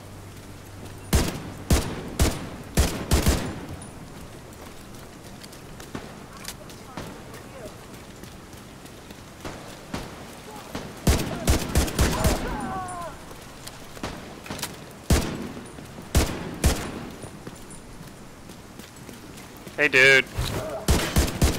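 Gunfire in the shooter game The Division 2, with repeated sharp bursts of shots and volleys scattered through the clip, some clustered in rapid strings, beneath occasional talk from a player.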